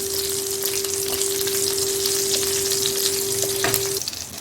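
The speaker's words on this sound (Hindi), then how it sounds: "तो हमारे अच्छे से दोनों तरफ से सेकना हो चुका है।" A chicken cheese Turkish kebab sizzles and fries steadily in a pan, a dense crackling hiss with a faint constant tone running beneath it and a brief clatter near the end.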